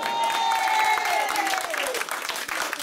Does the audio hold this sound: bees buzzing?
no